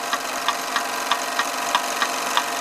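Toy twin cylinder steam engine by Bing from the 1930s, model 10-147-2, running at speed with a steady hissing rush and regular rhythmic chuffing beats about four per second, close and continuous.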